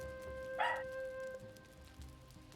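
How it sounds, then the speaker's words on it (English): A dog barks in a single short burst near the middle, partly behind a steady electronic hum and low room noise during a Valheim gaming session. "Hear my dog's barking."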